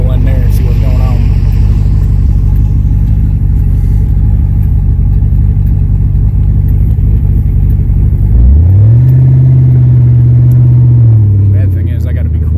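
A loud drag car engine idles with a heavy rumble right after a burnout, then blips and revs up briefly as it pulls into a gas station.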